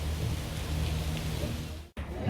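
Steady rain pours down at Gatorland in Florida, a dense continuous hiss heard from under a canopy, with a brief dropout near the end before the downpour resumes.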